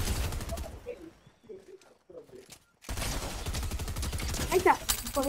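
Rapid gunfire bursts from the video game Fortnite crackle in the game mix, dropping to near quiet for a moment before busy shooting resumes, while players talk over it.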